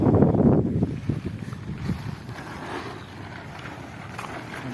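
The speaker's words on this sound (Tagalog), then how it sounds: "Hangin lang. Hangin. Ayun oh, hangin." Strong wind buffets the microphone outdoors on an overnight fishing trip, a steady low roar that is loudest at the start and then settles into a constant rush, with no voices.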